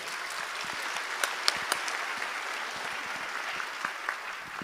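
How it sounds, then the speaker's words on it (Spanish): An audience at a conference opening session claps steadily, a dense patter of hands with a few sharper claps standing out, moderately close and without voices. "La recibimos con un fuerte aplauso"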